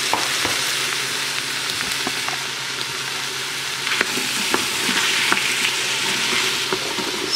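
Onion, green pepper and celery fry in an Instant Pot with a lively crackling sizzle, while frequent sharp scrapes and taps of stirring cut through; there is no talk.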